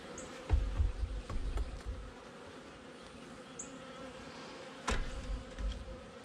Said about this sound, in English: Doesn't seem like there's a whole lot of bees.